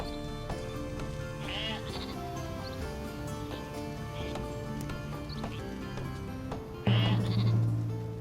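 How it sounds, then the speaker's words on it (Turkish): Sheep bleat repeatedly in the strategy video game Northgard, several clear calls over a steady game soundtrack, with no speech. "Evet koyunlar zaten burada yiyecek kaynağımız"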